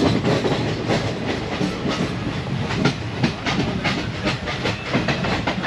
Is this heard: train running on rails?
yes